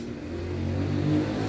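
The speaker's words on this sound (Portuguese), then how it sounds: "passou a moto" A motorcycle passing by outside a home, its engine droning and rising slightly as it goes past at moderate distance, with no talk over it.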